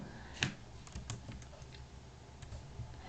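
Keys tapped on a computer keyboard while entering data in a spreadsheet, a short run of close, light clicks with one sharper press near the start, over quiet room noise.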